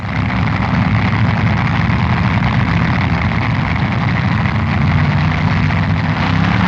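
Supercharged drag racing engine at a 1968 NHRA US Nationals event, a loud continuous low roaring rumble that stays level throughout, with no talk.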